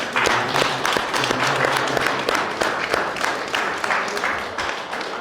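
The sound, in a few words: audience applauding board members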